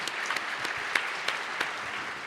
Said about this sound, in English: Let's give another round of applause to their amazing work, really.